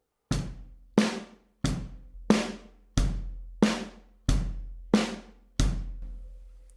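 Drum strokes played as steady quarter notes in a right-hand ostinato, eight evenly spaced, sharp hits each ringing out briefly, close and alone with no talking.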